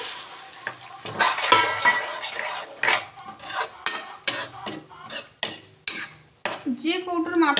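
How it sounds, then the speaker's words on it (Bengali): Beans and peas stirred in a pan, a close series of sharp spoon scrapes and clinks against the metal in irregular bursts over a soft sizzle, with a brief voice near the end. "বিনস মটরশুঁটি একটুখানি নেড়ে নেব"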